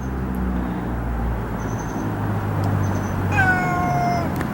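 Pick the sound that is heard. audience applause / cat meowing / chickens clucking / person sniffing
cat meowing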